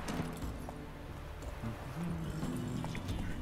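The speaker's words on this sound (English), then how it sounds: "Horse." Horse hooves clip-clopping in The Witcher 3, a steady rhythmic trot under dense game ambience, with no talk.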